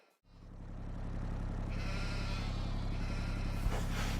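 Sheep bleat in the Farming Simulator video game over a steady low engine-like hum, the bleating calls rising faint then clearer in the latter half, with no talk.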